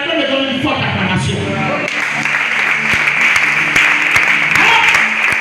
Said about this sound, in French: Quelqu'un me donne une forte acclamation.